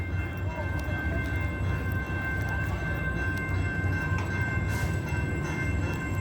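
A train rumbles steadily past, a continuous low rolling roar with faint metallic squeals and clicks, moderately near and without pause.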